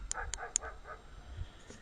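A dog barks at night in a quick run of three or four sharp barks, followed by a couple of fainter, trailing yips, heard from some distance in an otherwise quiet field.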